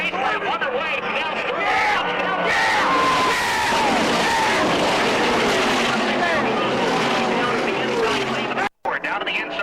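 Chevy and Ford NASCAR stock cars racing at full speed in the 1996 Daytona 500, a loud sustained engine roar mixed with crowd noise and a commentator talking over it throughout, with a brief dropout near the end.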